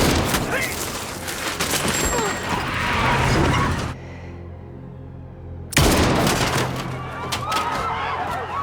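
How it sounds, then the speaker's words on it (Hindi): Unsilenced gunfire rattles in a dense, loud fusillade of rapid shots, stops abruptly for nearly two seconds, then resumes just as hard. "साइलेंसर निकाल दो, आवाज गूंजनी चाहिए और गोलियां बर्बाद ना हो।"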